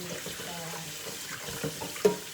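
Tap water runs quietly over food being washed in a sink, a soft splashing stream broken by light knocks and one sharp clink near the end.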